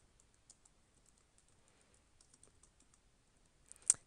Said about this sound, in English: Firstly, let's type up our heading.